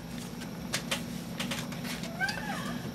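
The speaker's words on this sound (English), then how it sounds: "it's my cat Sherlock saying, "Mommy, let's go, you're to" A house cat meows faintly in the background of a quiet indoor room during card making, a brief plaintive call under low ambient noise.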